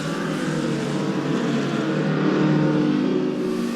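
An Alpine A210 race car draws alongside and past a Lotus 23, a dense, loud engine roar holding steady and swelling slightly as it goes by, with no voices.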